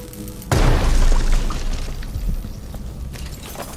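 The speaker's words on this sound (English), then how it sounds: "I'll use my grenade then." A grenade in the video game Dishonored 2 goes off with a sudden loud boom, followed by a long rumbling decay and scattered debris sounds.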